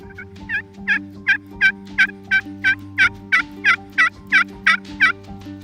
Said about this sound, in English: Oh man, that hen is across the road.